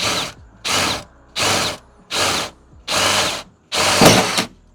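A Hole Dozer hole saw cutting holes in a Subaru STI hood: six loud, evenly spaced bursts of harsh drilling and grinding, each about half a second long, separated by short quiet gaps.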